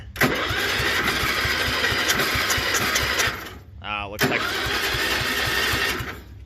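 A 1973 Wheel Horse 8hp four-speed tractor engine runs at slow throttle with a fast, even chugging beat, briefly dropping out near the middle before picking back up, loud and close.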